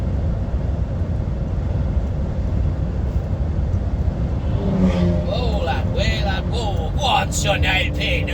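Loud-exhausted car accelerating on the M74/M6 motorway, its rising engine and exhaust note sweeping up over steady road and cab rumble from a truck, with talk over it.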